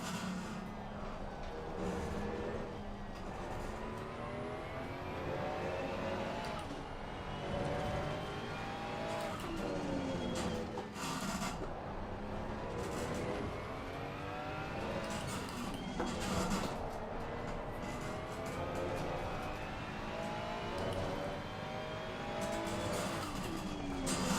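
A Ferrari GT race car in Assetto Corsa Competizione powers out of the pit lane, its loud engine revving up repeatedly through the gears, with bursts of tire squeal along the way.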